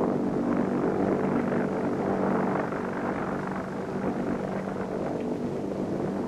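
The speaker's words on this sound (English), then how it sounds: "The helicopter banks quickly away on the port side, drawing up the winch wire." An RAF rescue helicopter hovers and winches during a sea rescue exercise with a lifeboat, giving a steady, dense rotor and engine roar that stays loud and even throughout with no voices.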